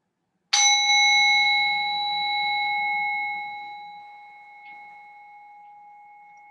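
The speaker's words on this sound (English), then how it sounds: "In another moment, I'll ring the bell again." A single bell is struck to close the resting period of a yoga practice, one clear ringing tone that sustains and slowly fades over several seconds in a quiet room.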